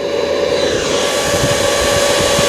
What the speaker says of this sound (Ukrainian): кулір працює